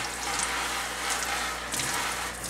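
Water runs and splashes as a basil leaf is rinsed under a tap, a steady hissing trickle with brief louder splashes, close and continuous with no speech.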